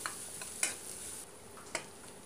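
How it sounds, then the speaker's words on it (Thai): Crushed garlic stir-fries in hot oil, a soft continuous sizzle with a few sharp scrapes of the spatula, close but quiet. "ผัดให้กระเทียมเหลืองเนาะค่ะ"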